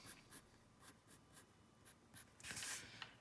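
Pencil cross-hatching on paper: a run of short, evenly spaced scratchy strokes close by, ending in a longer, louder scrape.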